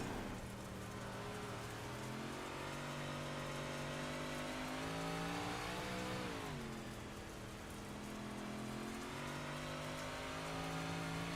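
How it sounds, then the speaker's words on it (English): Onboard sound from a race car warming up at Huset's Speedway: a loud, continuous engine drone with sustained tones that rise and dip as the car moves through the turns, alone with no talking. "Let's take a ride on board, in fact, with Colby Kasinger."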